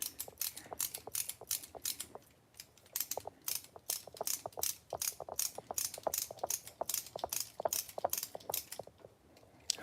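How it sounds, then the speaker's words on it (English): A ratchet handle clicks rapidly while a tap cuts threads into a hole drilled out 1/16 inch. Bursts of close, crisp clicking repeat steadily with brief pauses as the handle swings back and forth, and no voice is heard. "Now I'm going to put some threads in it."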